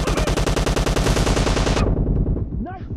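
Rapid automatic fire from an M762 assault rifle in PUBG, a loud, close, evenly spaced burst of shots lasting nearly two seconds, then a reverberant tail with a faint game sound.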